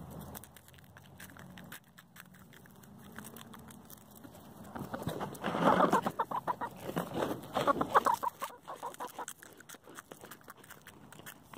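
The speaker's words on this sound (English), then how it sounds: "So we have the chickens." Farm chickens clucking close by, with soft scattered clucks at first that build into a louder burst of busy, overlapping clucking and cackling before easing off again.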